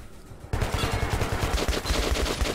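Rapid automatic gunfire in Metro 2033, a sustained loud stream of shots beginning abruptly after a brief quiet moment and continuing steadily with dense rattling reports.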